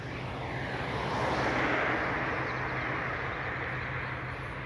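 Passenger airliner landing on runway 29 in Aruba after a flight from Amsterdam, a broad steady jet roar heard outdoors at a distance that swells slightly and then fades.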